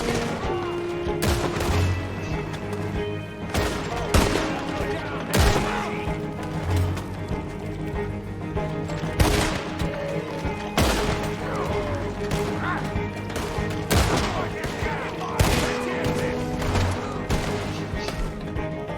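Dense Red Dead Redemption 2 gunfight during a train robbery, with repeated loud gunshots and crashing impacts going off throughout amid general game noise.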